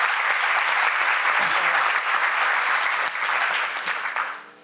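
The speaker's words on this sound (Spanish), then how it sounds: "Inés, un fuerte aplauso, por favor" Steady audience applause at a business talk event for women leaders, a dense wash of many hands clapping that holds evenly before fading away at the end.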